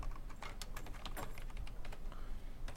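Quick, irregular keystrokes clatter on a computer keyboard as an amount is entered into personal finance software, close and fairly soft with no talking.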